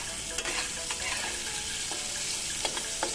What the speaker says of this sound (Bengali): তেলটা গরম হয়ে এলে এর মধ্যে বেগুনগুলো ছেড়ে দিলাম।